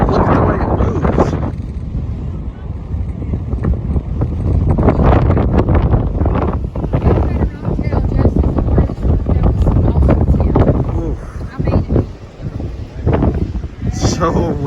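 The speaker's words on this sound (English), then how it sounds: "So windy out here." Strong gusty wind buffets the microphone at a beach near Hilton Head or Savannah as a sandstorm approaches, a loud continuous roar with rumbling surges, while a person talks over it.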